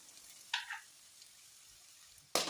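Garlic drops into hot oil in a pan for a road-style masala pori. It makes two short bursts of crackling sizzle, one early and a sharper one at the end, with faint quiet between them.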